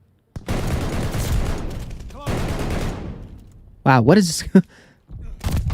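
Rapid bursts of gunfire from a pistol in Call of Duty: Vanguard, two long loud volleys separated by a short gap, then a player speaks excitedly before more shots resume at the end.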